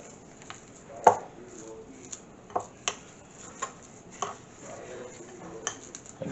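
A utensil works through a bowl of parmesan and cheddar filling for jalapeno poppers, with sparse, irregular clicks and taps against the bowl at a quiet, close level.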